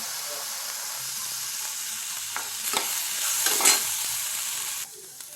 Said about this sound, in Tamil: வெங்காயத்தை நம்ம வறுத்து எடுத்துக்கலாம் வதக்கி எடுத்துக்கலாம்